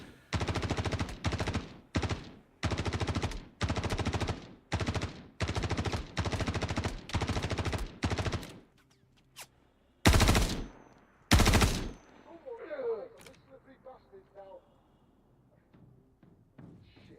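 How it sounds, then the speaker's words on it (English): Light machine gun fire in the Star Citizen video game, long sustained bursts of rapid shots repeating loud and close, then two separate heavy bursts followed by fading clatter and quiet. "He must be running one of the LMGs with like a 75 round mag."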